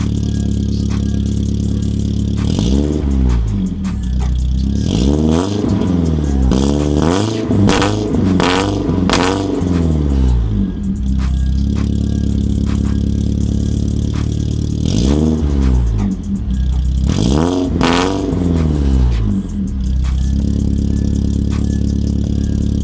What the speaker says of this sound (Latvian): ieslēgšu bišķi mašīnu, piedribināšu paklausīsimies, kā skan bez pulfingala